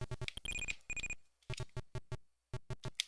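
A telephone rings inside an Atari 8-bit video game as a series of chirpy electronic beeps, first in quick clusters and then in sparser, evenly spaced pulses, loud and alone.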